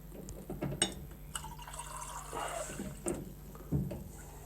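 Hot water from a tap running into a kitchen sink a quarter full, a soft, fairly distant trickle and splash with occasional drips and clinks, heard alone without talking.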